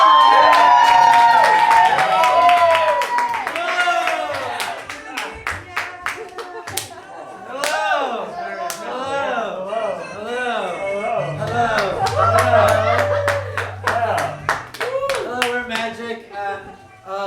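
Audience at an improv comedy show breaks into loud, sustained clapping mixed with whoops and cheers, with dense claps running throughout and excited voices rising over the applause.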